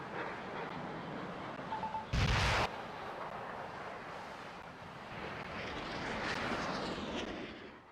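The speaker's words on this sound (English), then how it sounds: "The Super Hornet picket returns to the carrier." A Super Hornet jet flies back to its carrier in the naval strategy game Naval War: Arctic Circle, its engine a continuous roar that swells near the end. A short, sharp burst cuts in early on.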